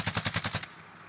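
Enemy automatic gunfire in Call of Duty Warzone: a fast burst of about six loud, close rounds in steady rhythm that stops abruptly and leaves quiet.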